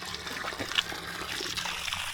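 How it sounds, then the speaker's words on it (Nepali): Spring water trickling steadily at a natural water source near Masina, Ghorahi in Dang, a soft continuous close-up dribble and splash with no talking. "यो स्प्रिङ वाटर हो"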